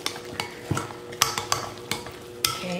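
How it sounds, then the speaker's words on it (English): A spoon stirs a thick mashed potato mixture seasoned with garlic, giving several distinct, close scraping and clinking strokes against the bowl at an irregular pace, with no talking. "I'm going to stir that up"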